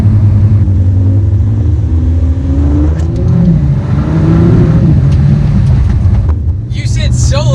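A 2019 Ford GT engine pulls hard under acceleration from inside the car, a loud rising drone whose pitch climbs and dips across several seconds, with a voice talking over it.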